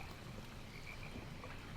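Frog croaks in the Albion Online video game, a steady low croaking chorus running throughout at moderate level over an ambient background, with no one talking.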